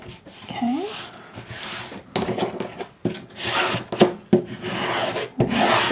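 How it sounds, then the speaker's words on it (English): Paper for a handmade photo folder is rubbed flat with a burnishing tool in short scraping strokes, a close dry rubbing sound repeated in bursts. "Burnish this down."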